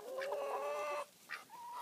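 Backyard Rhode Island Red and Jersey chickens let out a couple of drawn-out, wavering clucks and calls nearby, a longer call followed by a shorter one, over quiet outdoor background.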